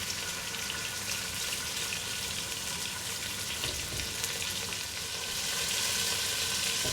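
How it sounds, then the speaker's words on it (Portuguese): Meats fry in very hot fat for a feijoada, a dense, even sizzle that runs continuously at close range with no voices, swelling slightly louder toward the end. "assim que esta gordura esteja bem quente, é fritar bem as carnes para libertar bem os sucos e os aromas"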